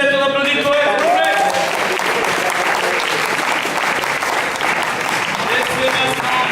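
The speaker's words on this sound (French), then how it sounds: "On applaudit le poète, s'il vous plaît" An audience applauds a slam poet after scores are read at a poetry slam final: dense, loud, continuous clapping with a brief voice at the start.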